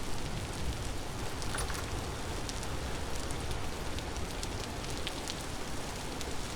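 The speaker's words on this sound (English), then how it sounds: "Maybe it's dark because it's raining or something like that" Steady rain in the game Vintage Story, a constant even hiss of falling drops with faint scattered ticks on top, unbroken throughout and with no talking.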